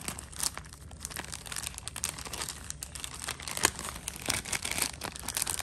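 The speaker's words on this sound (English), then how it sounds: "Just rip them up." Plastic packaging around enamel collectible pins being ripped open by hand, a continuous close crinkling and tearing with sharp crackles throughout, no talking.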